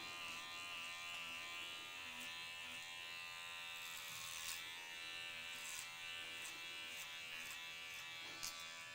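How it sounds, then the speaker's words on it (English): An electric hair clipper buzzes steadily while cutting a long pixie cut in a salon, a constant humming drone with faint snips of hair and no talking. "I'm just gonna pull the clipper towards my body to extend out that weight line"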